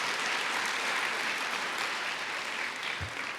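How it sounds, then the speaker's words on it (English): An audience at a college forum with Governor Jeb Bush claps for the hosts, a steady, fairly distant wash of applause lasting the whole few seconds and ending with a soft thump. "If we could get a round of applause, I really appreciate the hospitality they gave us."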